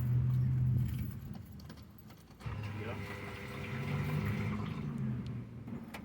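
Faint metallic key jangling and clicking as a key is handled in the ignition switch of a Chevy Cobalt, quiet and intermittent, with a low background hum and a voice nearby.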